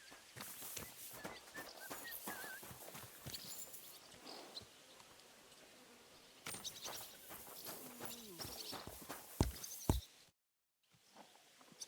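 Horse in a stable in Kingdom Come: Deliverance 2, with soft hoof clip-clops, shuffling steps and scattered thuds, quiet and close, briefly dropping to silence near the end.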